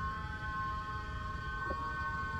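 A siren in the horror video game Silent Hill 2 holds a steady, sustained tone that sounds distant and faint over a constant low rumble of background ambience, with no voices.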